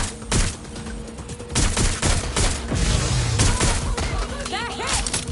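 Gunfire in the Watch Dogs Legion video game, dense continuous volleys of shots with sharp cracks throughout, loud and busy, mixed with game noise.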